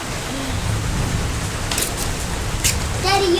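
Heavy rain pouring down in Reno, a constant close hiss of falling water throughout, with a few brief voices breaking through near the end.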